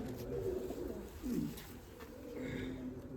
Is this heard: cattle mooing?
no